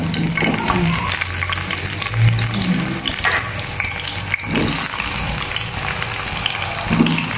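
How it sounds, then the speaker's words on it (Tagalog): Potatoes frying in hot oil in a home kitchen give a steady, loud sizzle and crackle, with occasional stirring and clatter rising above the continuous hiss. "lagyan ko ng oil ko. Then ko siya ipa-fry itong aking potato"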